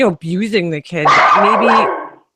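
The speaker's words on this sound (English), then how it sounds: "Sorry, that's my dog." A dog barks several times close to the microphone in loud, overlapping yips, with a person talking over the barking.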